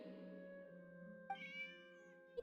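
A cat meows in the video game Genshin Impact, set over steady game music, with one short meow near the start of the sound and another at the end.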